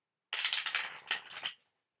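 Tarot cards are shuffled in one brisk burst of riffling, papery flutters lasting about a second, close and fairly quiet, with no talking.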